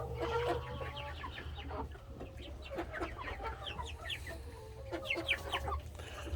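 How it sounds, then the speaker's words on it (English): Chickens in a crowded coop on a rainy day, many birds clucking and chirping in short overlapping bursts above a steady low rumble of background noise, moderately close. "Obviously, there's lots of birds in here."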